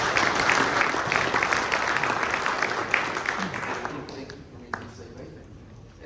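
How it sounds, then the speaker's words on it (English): Conference audience applauding two presenters, a full burst of clapping that thins and fades over several seconds, with a few voices murmuring underneath as it dies away. "a round of applause for both Bob and Dan"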